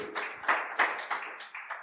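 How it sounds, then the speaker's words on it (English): A small audience claps for a startup pitch at an energy-tech event, a short run of distinct, fairly sparse hand claps rather than full applause, close and unaccompanied by talk. "All right, let's clap for him."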